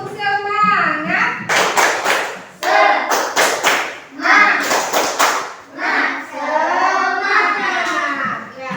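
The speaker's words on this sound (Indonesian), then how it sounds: "Tepuk semangat." Schoolchildren in a classroom clap a rhythmic hand-clapping chant, sharp bursts of claps in patterned groups mixed with loud group chanting in unison, close and lively.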